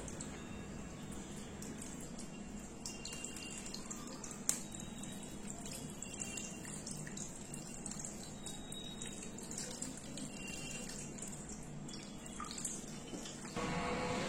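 Milk and Ganges water poured over a Shiva idol during a Nil Shashthi puja, a faint, steady trickle and drip running continuously with a brief tap partway through and a slightly louder stretch at the end.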